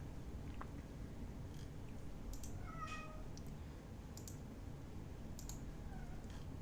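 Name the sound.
cat meowing in the background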